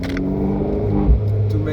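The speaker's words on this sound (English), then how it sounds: "Now I push the sport button, so it sounds a bit more aggressive" Abarth 595C Turismo engine and exhaust in sport mode, a close, steady low rumble with a brief throaty swell near the end, while someone talks over it.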